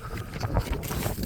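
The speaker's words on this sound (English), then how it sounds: "I'm sorry for being stuck in the wind" Outdoor wind buffets the microphone, making a low, rumbling, fluttering roar that holds fairly steady through the short stretch at moderate loudness.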